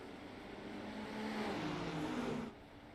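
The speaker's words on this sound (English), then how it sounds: "What a sound, what a sight. This is Le Mans, this is iRacing" Race-car engines drone at the Le Mans start in the sim racing game iRacing, a fairly faint, steady roar that swells for a couple of seconds, then drops away abruptly.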